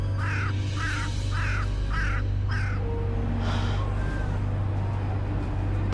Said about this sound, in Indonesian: Suara burung gagak.